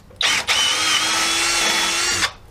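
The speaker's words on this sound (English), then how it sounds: "Then we 8mm bit, drill again, right?" A power drill with an 8mm bit runs steadily for about two seconds after a brief start and stop, loud and close, with a high whirring tone and no talking.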